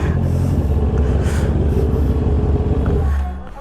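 A Honda CB650R motorcycle engine idles and is blipped on a hot day, a loud steady close-up rumble with throttle pulses that drops off near the end.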